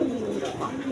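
A pair of Rasgolla pigeons coos close by in a low, steady, throaty murmur that fills the whole second.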